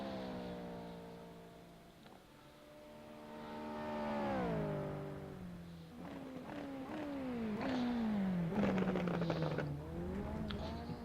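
A race car laps a track, its engine revving hard through gear changes with rising and falling pitch sweeps, loud and steady for the whole stretch with no voices.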